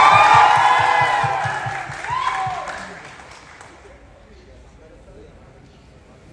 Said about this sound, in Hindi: तनी एगो हाथ उठा के ताली बजा के आशीर्वाद देता है